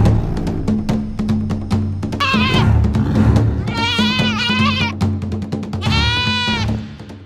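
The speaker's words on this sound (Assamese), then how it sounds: "বাঘটোৱে এজনীক ছাগলী পিছা কৰি ভীমে শুই থকা গছজোপাৰ তলেদিয়েই গ'ল" Cartoon goat bleats several times as a tiger chases it, loud and close, wavering cries over a bouncy music track with plucked rhythmic notes.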